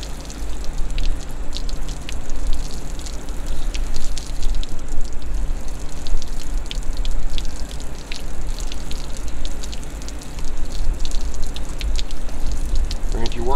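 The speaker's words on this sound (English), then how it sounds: "All right, rinse it down thoroughly." Water rinses down the base of a barber's chair, a steady hiss and spatter of running water on metal that continues throughout with faint drips and splashes.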